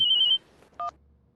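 A short electronic phone tone, a steady beep followed by a brief double-pitched chirp, then quiet.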